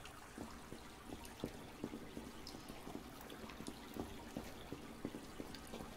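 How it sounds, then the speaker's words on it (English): Underground river in a cave in the Subsistence survival video game, a steady faint trickle and flow of water with soft repeated splashing drips, heard alone without voices. "Underground river."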